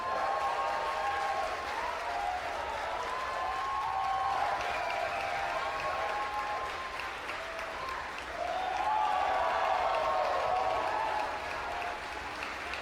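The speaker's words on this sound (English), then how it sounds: "You hear the cheering." A crowd cheers and applauds as a Falcon 9 upper stage engine ignites, the sustained clapping and whooping heard from a distance and rising in swells, with a few voices calling out.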